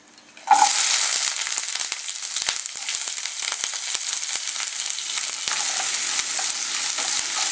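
Sliced onion hits hot coconut oil with popped mustard seeds, a sudden loud sizzle that keeps frying steadily, with occasional scraping and stirring clicks.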